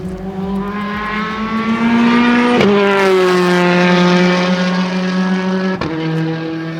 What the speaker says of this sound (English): This is a full-on race car.